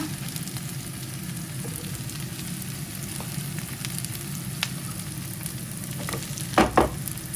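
Mushrooms fry in a pan with the sauce for a Chinese-style curry, giving a steady close sizzle with a few scattered clicks and a couple of louder clatters as the pan is tossed near the end.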